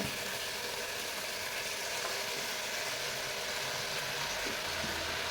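Homemade wheat-flour noodles and vegetables stir-fry over full gas flame, giving a steady, dense hiss of sizzling that stays even and moderately loud throughout, with no voices.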